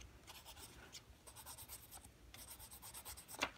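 Colouring pencil scratching on paper during a DIY paper craft, quiet close strokes in quick rhythmic bursts with short pauses between them, no talking.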